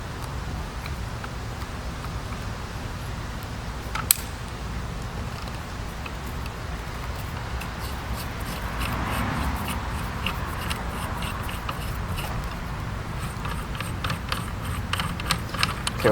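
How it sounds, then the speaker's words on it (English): Muzzle brake being removed from an AK-74 rifle during cleaning, with quiet metallic clicks and ratcheting turns against a steady background, plus one sharp tap early on and light ticks near the end. "I'll take my muzzle brake off"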